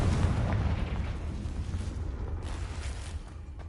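A Confringo fire spell explodes in Hogwarts Legacy, a heavy booming blast with a deep rumbling tail that slowly fades over a few seconds.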